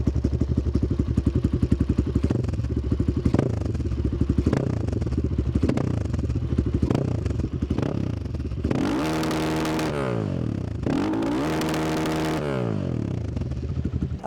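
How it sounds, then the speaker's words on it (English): A cheap supermoto motorcycle engine running close up, with a loud, steady, chugging idle and blips of the throttle, followed by two strong revs that rise and fall in pitch. "right now I wanna make sound check for you, so you can listen how this bike sounds."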